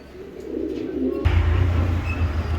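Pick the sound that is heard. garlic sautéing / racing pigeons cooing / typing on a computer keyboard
racing pigeons cooing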